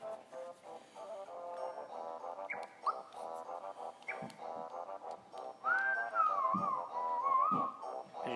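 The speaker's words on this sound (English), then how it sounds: "I should stop whistling." A person whistles a wavering tune through clenched, airy notes, soft and close, with sliding pitches in the last few seconds over faint background game music; no one speaks.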